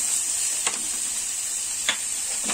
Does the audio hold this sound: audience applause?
no